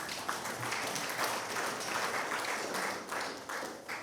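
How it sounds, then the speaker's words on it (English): Applause from a capstone conference audience, moderately loud broadband clapping that holds steady for about four seconds. "You can clap for yourself."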